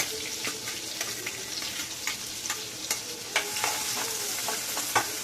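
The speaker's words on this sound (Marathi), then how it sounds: "आता ह्याच्यामध्ये हा कांदा चिरलेला एक आहे तो टाकते।" Chopped onion goes into hot oil with cumin seeds, giving a steady close sizzle and frying crackle with scattered sharp pops and stirring clicks throughout, no talking.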